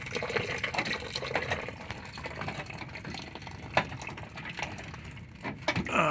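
Water gushes and gurgles continuously through a blocked gray waste tank on a Bighorn RV, a close, noisy, uneven rushing flow with occasional splashes.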